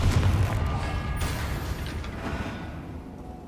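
A Confringo fire spell explosion in Hogwarts Legacy: a loud booming blast at the start with a deep rumbling tail that slowly fades away, with no voices over it.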